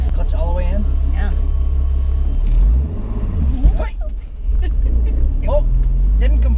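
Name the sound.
supercharged Nissan 350Z engine restarting after hard launch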